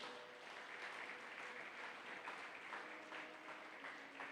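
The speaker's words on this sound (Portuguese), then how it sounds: "Pode aplaudir o Senhor." Church congregation applauding during a service, a steady dense wash of clapping from many hands that holds at an even, moderate level throughout, with faint voices underneath.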